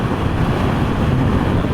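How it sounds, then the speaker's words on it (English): Steady, loud wind roar buffets the rider of a 2021 Yamaha MT07 motorcycle at highway speed, a constant broadband rush with no pauses and no speech. "the wind is hitting me like dead in the chest and up"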